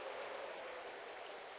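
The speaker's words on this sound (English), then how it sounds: "Why is it raining?" Rain falling in a video game, a soft, even hiss of steady rainfall heard alone and fairly quiet for a moment.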